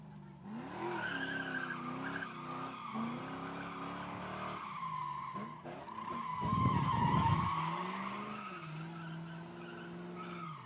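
A Mustang entering a drift pit with the parking brake on, its tires skidding and squealing in a long loud slide as the engine drones underneath, with talk in the background.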